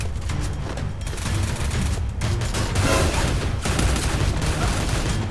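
Rapid bursts of Parafal gunfire in a video game, dense and loud, with repeated shots blurring into a continuous rattling fusillade with booming impacts.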